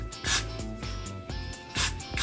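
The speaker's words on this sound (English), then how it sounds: "we're gonna spray this side too." Two short, close bursts of hissing spray from a can onto a lace frontal wig, separated by quieter rubbing and handling sounds.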